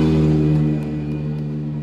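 A steady, loud race car engine drone, a McLaren at the Goodwood Festival of Speed, with strong low harmonics, slightly easing after the first moment, sustained throughout without speech.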